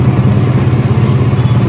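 A Suzuki GSX-R150 motorcycle engine running close and loud with its exhaust altered, a steady low throbbing drone with slight pulsing and no clear rise in pitch, no talk.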